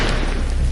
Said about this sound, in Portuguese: A explosão iluminou tudo por um instante.